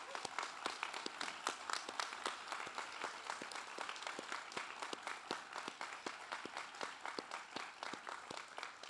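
A graduation audience at a training center applauds its instructor staff, a steady round of sharp, distinct claps from a modest crowd heard at some distance, sustained for several seconds.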